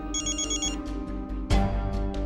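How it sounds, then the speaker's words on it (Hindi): A phone ringing indoors in a Hindi TV comedy household scene, a steady electronic ringtone pattern repeating over a low hum, fairly loud and continuous with a brief louder burst near the end. "इसका फिर से फोन आ रहा है, क्या करूं मैं?"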